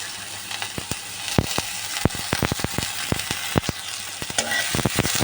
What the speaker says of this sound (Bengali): তেলটা দিয়ে দেওয়ার পর আমি পেঁয়াজ কাঁচা মরিচগুলোকে ভালো করে ভেজে নেব।